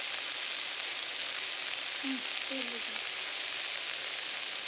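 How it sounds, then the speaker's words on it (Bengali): Onions frying in oil in a kadai at an outdoor winter picnic, a steady close hiss of sizzling that runs unbroken throughout, with a couple of faint brief tones over it. "দিদি পেঁয়াজ দিয়ে দিয়েছে কড়ার মধ্যে"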